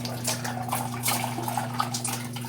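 Running water from a tap splashing steadily while something is rinsed during washing, close and continuous over a constant low mechanical hum.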